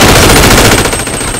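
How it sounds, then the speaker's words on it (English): Loud, rapid automatic gunfire rattles continuously at close range for about a second and a half. "I hear gunfire"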